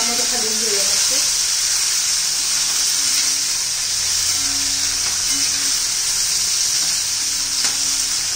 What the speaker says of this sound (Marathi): आता हे मिरच्या घालून घेऊ। चांगलं तेलामध्ये घालून घेऊया मस्त।